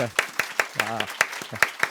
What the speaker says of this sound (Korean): 우리 일어나신 분은 하나님께 감사의 박수를, 앉으신 분은 축하의 박수를